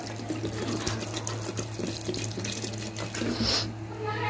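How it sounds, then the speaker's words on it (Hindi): Tap water runs steadily into a pot of peeled, washed potatoes, a close continuous splashing rush with a low hum beneath, no talking. "अब इसमें अंदाजे से पानी डाल देंगे"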